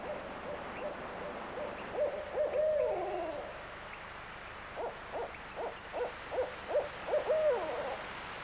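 A barred owl calls in the wild, giving two rhythmic bursts of hooting notes at moderate distance over a quiet background hiss.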